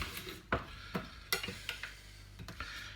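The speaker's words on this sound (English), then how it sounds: "I'm going to cut this tomato in half" A knife slices a tomato in half on a board, giving a handful of sharp, close taps and scrapes spaced over a few seconds, with no talking.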